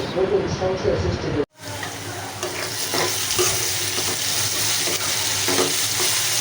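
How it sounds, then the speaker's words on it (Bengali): Onion and garlic, a generous amount, frying in oil for a Cox's Bazar dried-fish dish, giving a steady close sizzle with stirring scrapes, briefly cut off near the start before continuing unbroken. "পেঁয়াজ রসুন একটু বেশি করে নিয়ে তেলের মধ্যে ভাজতেছি"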